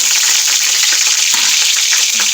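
Onions frying to golden brown for chicken korma, a loud close crackling sizzle with light stirring textures, steady and unbroken.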